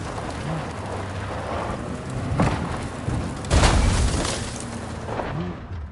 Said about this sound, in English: Holy... Do you see that? That is one hell of a storm!